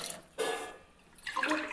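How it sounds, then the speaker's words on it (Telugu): Water poured over rice in a pot for chicken biryani, heard as two short splashing pours separated by a brief pause, close and fairly quiet. "so 4 glasses of water add చేసుకోవాలి"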